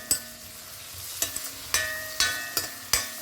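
Garlic and onion frying in a pan for Kerala-style kovakkai upperi, a soft steady sizzle broken by a string of sharp spatula taps and scrapes at an uneven rhythm, close and alone.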